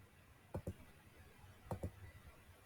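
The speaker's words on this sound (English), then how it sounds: "So they just keep clicking." A computer mouse clicks during a multiplication practice game, two quick pairs of sharp, close clicks about a second apart against a quiet background.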